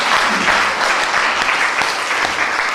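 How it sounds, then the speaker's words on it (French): A crowd applauds at an anniversary ceremony for an association, a steady dense wash of clapping from many hands heard alone. "peut les applaudir"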